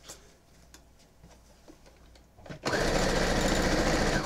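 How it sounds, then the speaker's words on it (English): A sewing machine stitches quilt pieces together. Quiet clicks and handling noises come first, then the motor kicks in with a loud, steady whirring run that continues to the end. "now I'm going to have to start sewing these"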